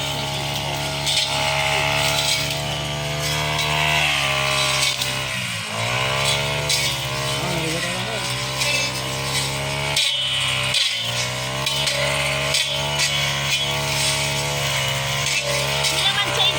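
A grass cutter runs continuously near the listener, a steady high buzzing motor with shifting pitch as it dips and recovers under load, while people talk over it.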